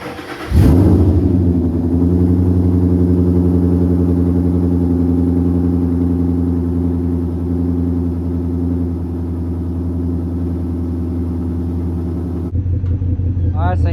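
Ford Mustang Coyote V8 fitted with Pypes long tube headers cranks and fires for its first start, then settles into a loud, steady, rumbling idle that cuts off near the end.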